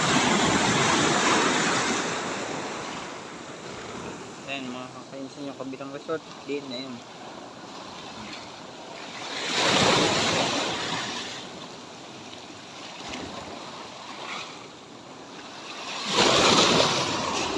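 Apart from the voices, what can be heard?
ocean waves crashing on beach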